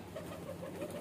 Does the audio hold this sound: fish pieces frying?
no